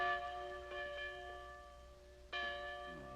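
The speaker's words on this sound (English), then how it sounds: "Courthouse bell." Courthouse bell tolling in a western town, two clear struck notes with long ringing decay, the second strike louder than the first, heard alone without talk.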